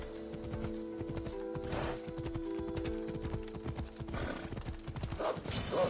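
A horse gallops in Assassin's Creed Odyssey, its hooves clip-clopping in a fast steady rhythm with a whinny, over sustained game music and ambient tones.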